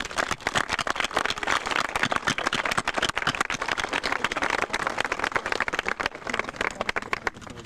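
Commencement audience at an eighth grade graduation applauding speaker Pam Peterson, a dense steady patter of many hands clapping for several seconds at a moderate distance.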